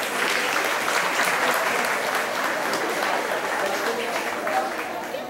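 Sustained applause from a large crowd at a teachers' education conference, dense clapping at a steady level throughout with no pauses.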